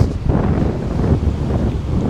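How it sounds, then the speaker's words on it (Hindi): Strong wind at a Goa beach buffets the microphone in a loud, continuous low roar with no voices. "हवा चल रही है बहुत ज़्यादा तेज़, बहुत तेज़ हवा है गाइस"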